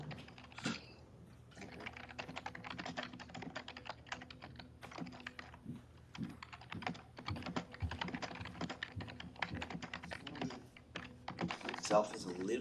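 Rapid clattering keystrokes on a computer keyboard in a meeting room, a dense run of quick taps with brief pauses, close and clear, with faint voices in the background.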